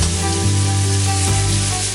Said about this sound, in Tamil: நறுக்கி வச்சிருக்கிற வெங்காயத்தை சேர்த்து மிக்ஸ் பண்ணிக்கலாம்